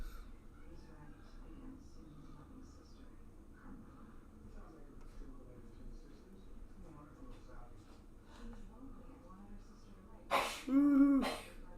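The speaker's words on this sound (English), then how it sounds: "my wife's having a sneezing attack." A woman sneezes abruptly and loudly near the end, following a long stretch of quiet background noise and faint breathing.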